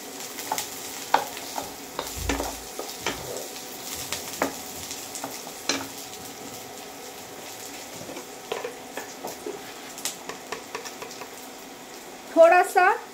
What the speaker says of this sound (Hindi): फास्ट ऑनियन डाल दिया, जिंजर डाल लिया, गार्लिक डाल दिया यहाँ पे